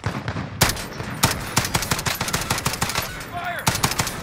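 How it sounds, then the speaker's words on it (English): Rapid automatic gunfire from Call of Duty Warzone rattles in sharp bursts and single loud shots throughout, near and dense, with faint game voice effects in between. "Who's shooting?"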